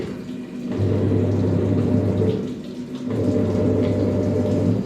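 Water pouring into the tub of a Whirlpool top-load washing machine, a steady rushing fill that runs continuously with a brief dip midway, close and fairly loud, no voices.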